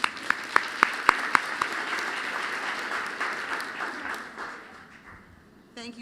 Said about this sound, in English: let's give her a nice warm welcome with a round of applause